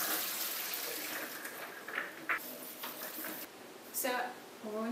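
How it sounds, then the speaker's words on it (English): Soaked cashews being drained and rinsed under running water, a broad wash of splashing and trickling through most of the stretch, with short louder gushes near the end. "So we're going to drain them and we're going to rinse them."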